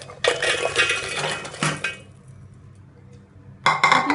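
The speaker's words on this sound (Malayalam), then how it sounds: "മിക്സിയുടെ ജാർ എടുത്തിട്ട് അതിലേക്ക് നമ്മുടെ കൈകൊണ്ട് ചെറുതായി കഷ്ണങ്ങളാക്കിയ ബിസ്ക്കറ്റ് ആഡ് ചെയ്ത് കൊടുക്കാം" Small hand-broken biscuit pieces tumble into a mixer-grinder jar for a vanilla custard pudding, making two bursts of dry clattering and rattling, the first longer, then a quiet gap before the second, with no talking.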